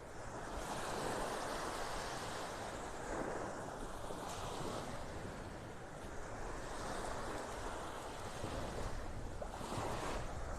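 Ocean waves lapping on a beach in North Naples, Florida, a steady wash of surf with soft swells rising and falling, plus light wind buffeting, no voices.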